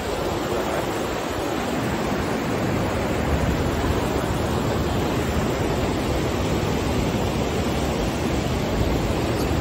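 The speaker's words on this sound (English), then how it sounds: "I'm camping by this waterfall over here." Steady roar of rushing water from a waterfall beside a campsite on the Kungsleden trail in northern Sweden, heard close and loud as a continuous broadband wash with no breaks and no voices.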